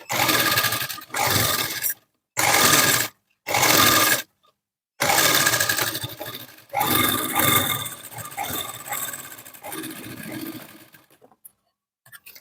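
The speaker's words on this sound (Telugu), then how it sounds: "ఈ కుట్టు మీద మళ్ళీ కుట్టు పడేటట్టు ఒక స్టిచ్ వేసేసుకోవాలి." Sewing machine stitching piping onto a lined blouse, running in several short loud bursts with brief pauses, then a longer steadier run that fades out near the end.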